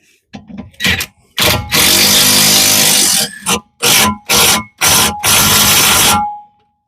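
Impact wrench tightening a bolt during a rear lowering spring install on a Ford Fiesta: a series of loud, close rattling bursts of varying length separated by short pauses, heard alone.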